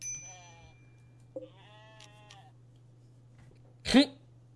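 Sheep bleat once in the Rimworld video game, a short, fairly loud cry near the end that follows soft in-game tones and a low steady hum, with no talk over it.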